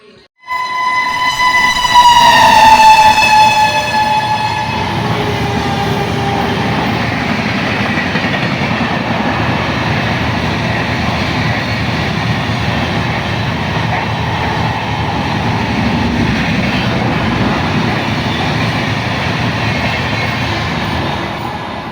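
A loud train horn blares as a train arrives at a village railway station, then the steady rumble and rattle of railway cars rolling past fills the rest of the clip.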